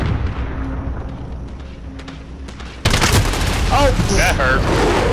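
Gunfire in the Modern Warfare video game during a Team Deathmatch round, starting as a muffled rumble and jumping to a loud, dense burst of shots and effects midway, with a player talking over it.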